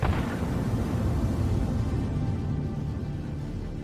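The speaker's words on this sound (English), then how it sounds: "The explosion was so powerful that the vehicle practically evaporated." A powerful, sustained roar of a tank blowing up, already underway, dense low rumble filling the clip and slowly fading, with no voices.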